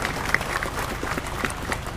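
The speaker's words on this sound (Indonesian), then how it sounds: "Tepuk tangan dulu ini." A crowd at a stadium sermon applauds in a dense, steady wash of clapping with a few sharper claps standing out. The applause holds at an even level throughout.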